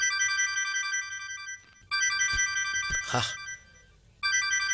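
A phone ringtone repeats in loud bursts of melodic tones, going unanswered, with short gaps between rings and a few knocks and a brief noise in one pause.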